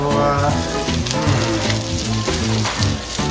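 Loud, steady sizzling and crackling of sardines frying in a hot pan, close up, with no voices.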